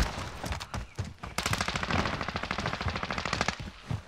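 Rapid automatic gunfire in Call of Duty Warzone, set in 1984 Verdansk during a trios match: loud, close bursts of shots that rattle almost continuously for several seconds with brief gaps, no talking.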